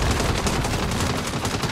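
Rapid, dense gunfire from the video game Saints Row (2022 release), loud and sustained, with bursts running together into a continuous rattle and no voices over it.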